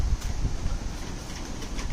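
Faint gusty wind rumbling against the microphone, low and uneven, with no voices.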